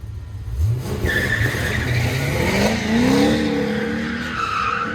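A 1972 Corvette and a Datsun Z-Car race at an autocross event, with tires squealing loudly and engines revving and rising in pitch as the cars push through the course, the sound close and sustained.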